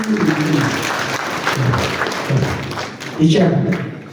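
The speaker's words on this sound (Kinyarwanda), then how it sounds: "Mumukomera amashyi" Audience applause at a Rwandan public gathering: steady, dense clapping for about four seconds, swelling again near the end, with a voice talking over it.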